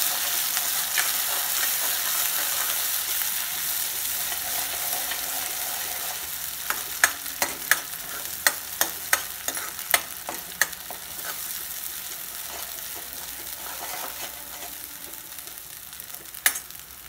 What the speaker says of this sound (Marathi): आता हे परतून घेऊ आपण मसाला।